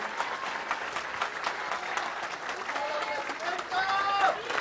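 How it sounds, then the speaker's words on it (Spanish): Loud crowd applause for President Claudia Sheinbaum Pardo at a public health event in San Luis Potosí, a dense steady wash of clapping with voices and cheers mixed in throughout. "Otro aplauso fuerte para la presidenta Claudia Sheinbaum Pardo."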